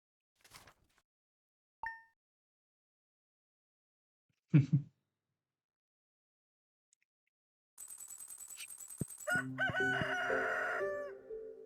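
A rooster crows in the Stardew Valley farming game, a loud, clear crow near the end after some sparse clicks and a brief thump.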